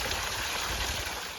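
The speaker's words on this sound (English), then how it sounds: "Have you ever seen a steaming waterfall with just like sulfur build-up everywhere?" A steaming hot spring waterfall at Mae Hong Son, Thailand, pours with sulfur crust around it, making a steady, close, broadband rush of falling water without pause.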